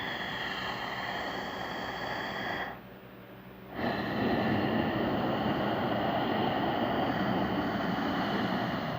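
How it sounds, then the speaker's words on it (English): Slow, deep breathing in and out through the nostrils, recorded with the microphone right at the nose, gives a steady loud airy rush with a brief quieter pause between breaths. "your focus needs to be on the sound that the air is making as it's going in and out of your nostrils"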